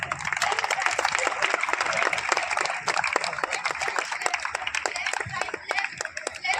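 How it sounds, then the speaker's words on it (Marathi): An audience claps steadily in dense, rapid applause as the torch arrives to open an annual school sports competition in Lonavala, with the crowd's clapping sustained throughout and voices faintly mixed in. "स्पर्धेचे सुरुवात मशालीच आगमन होत आहे तरी सर्वांनी टाळ्या वाजवायचं आहे"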